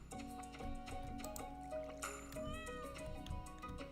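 A cat meows softly during a Stardew Valley game stream, thin and fairly faint over background game music with bright chimes.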